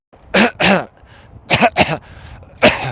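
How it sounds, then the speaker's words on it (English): Someone clears their throat several times in a row, loud and close, with short harsh bursts and brief pauses between them. "I need to clear my throat."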